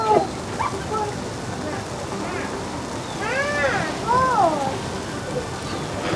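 Rain falls steadily in Xochimilco, Mexico City, a soft continuous hiss throughout, with a person talking over it and a few high, sweeping warbling tones rising above the wash.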